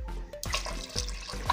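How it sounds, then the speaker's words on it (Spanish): Water poured into a pot of quince fruit pieces, a steady close splashing and gurgling stream running without a break, with no talk over it. "Le vas a poner agua"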